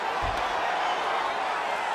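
Steady crowd noise from a UFC 5 arena fills the space, a broad continuous roar of cheering spectators with no breaks, a dull thump rising beneath it near the start.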